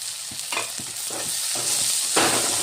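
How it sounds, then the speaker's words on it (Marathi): Chopped tomatoes go into a pan of frying onion, chili and ginger-garlic paste, producing a close sizzle broken by several stirring scrapes, with a louder burst near the end. "आता मी यामध्ये टमाटर टाकत आहे"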